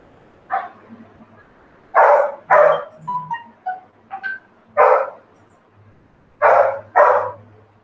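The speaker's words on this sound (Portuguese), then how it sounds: "o cachorro tá latindo" A dog barks in separate bursts during a pause in a remote math lesson for third graders, with about nine barks of uneven spacing, some sharp and some softer yips, nearby and moderately loud, with no talking.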